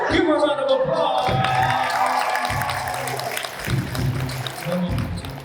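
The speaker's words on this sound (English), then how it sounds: "Give her a round of applause." Audience applause and cheering at an American Indian Month celebration, a sustained crowd clapping with some whoops, loud and steady throughout, with a voice speaking over it.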